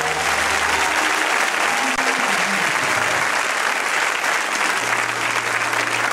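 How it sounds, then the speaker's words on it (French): A church congregation claps and cheers in a sustained, dense wave of applause that fills the room for several seconds, with no voices rising above it. "Si tu me comprends, acclame, acclame, acclame"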